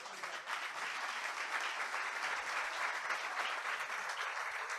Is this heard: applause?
yes